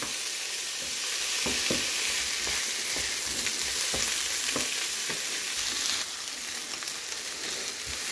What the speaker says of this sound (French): Je vais ajouter un poivron rouge que j'ai coupé en petits morceaux. Allez, je vais faire revenir avec les oignons.